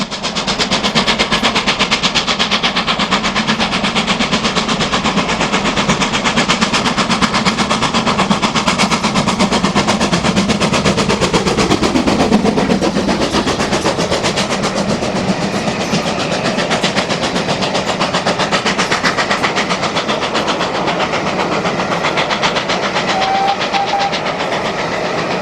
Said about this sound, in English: 7802 Bradley Manor gets to grips with Whiteball on the returning Torbay Express charter from Kingswear to Bristol in August 2003.